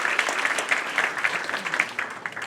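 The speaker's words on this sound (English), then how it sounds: "So can we get a round of applause for that?" Steady applause from an audience at a finance academy graduation awards ceremony, dense continuous clapping holding at an even level throughout.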